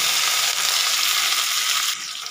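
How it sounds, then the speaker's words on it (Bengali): Cumin seeds and grated ginger frying in hot oil in a pan, a loud, steady close sizzle that drops a little toward the end. "জিরেটা যখন এরকম একটু ভাজা হয়ে যাবে তখন এতে দিয়ে দিচ্ছি আদা কুচি"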